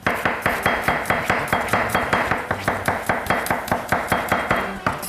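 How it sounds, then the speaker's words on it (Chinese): A knife chops bitter melon on a cutting board in quick, even strokes, about four or five sharp knocks a second, loud and close, with no voices. "全部切菜哈"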